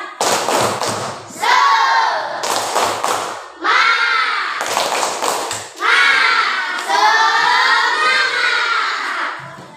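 Schoolchildren in a classroom perform a rhythmic spirit clap, with bursts of loud chanting voices and claps repeating in patterned phrases, separated by short pauses.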